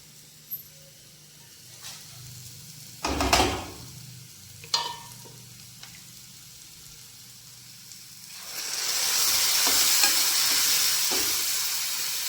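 Tadka tempering in a pan, with a few scattered clinks and scrapes of a spoon stirring, then a loud sustained sizzle as the hot oil spits and fries the spices.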